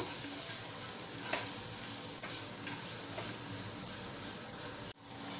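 Masala fries in oil in a pan with a faint, constant sizzle, broken by a few light stirring scrapes and soft taps, quiet and close, with no voices.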